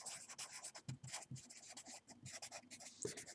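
Chalk or marker scratches and taps across a board during a math lecture on rational functions, coming in short rapid strokes and bursts with brief pauses, fairly quiet and alone.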